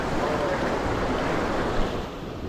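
River current rushing past rocks at a barramundi fishing spot, a steady broadband wash of flowing water with some wind noise, continuous and fairly close.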